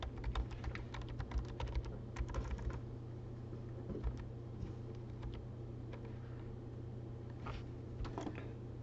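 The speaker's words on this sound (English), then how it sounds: "And then you can type into your boxes." Continuous typing on a computer keyboard, with steady clusters of soft key clicks over a constant low background hum and no voices.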